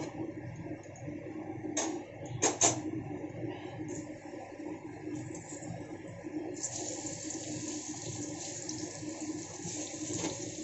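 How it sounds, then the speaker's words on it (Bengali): Eggplant pieces sizzle in hot oil seasoned with salt and turmeric, a soft, continuous frying hiss with a few clinks of stirring, growing brighter and steadier in the second half. "বেগুনগুলোকে আগেই দিয়ে দিলাম, দিয়ে তেলের সাথে খুব সুন্দর করে মিক্স করে নিচ্ছি"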